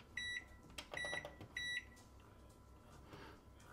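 A microwave oven heating an Iceland curry chicken rice ready meal gives three short, clear beeps, then settles into a quiet, steady running hum.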